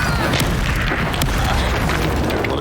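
Fiery spell blast in the Hogwarts Legacy game, a loud sustained booming roar with crackling debris filling the whole moment, no gaps or quiet.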